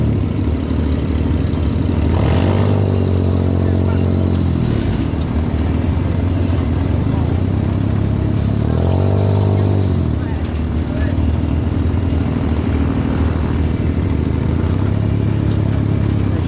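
Dune buggy engines and exhaust droning loud and steady on a park ride in the Dominican Republic, with revving surges swelling and falling, heard close throughout.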